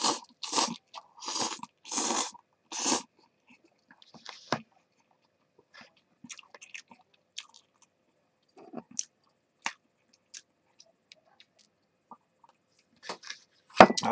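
Someone eats UFO instant yakisoba noodles topped with mayonnaise, making a few loud close chewing bursts at first, then sparse faint mouth clicks and smacks in a quiet room.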